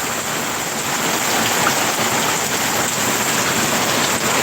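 Heavy typhoon rain pours down steadily, loud and close, filling the air with a dense hiss as a gutter overflows onto a terrace; the roar stays constant without a break.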